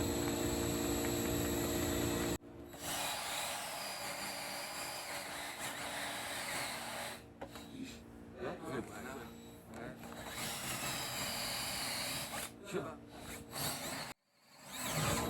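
A power drill bores a hole through wood clamped over a wooden backer board to prevent blowout, a steady close whir running in long stretches broken by short pauses, with someone talking.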